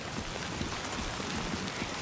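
Heavy rain pours down in the video game Death Stranding II, a dense, even broadband hiss with faint patter, constant and close with no voices.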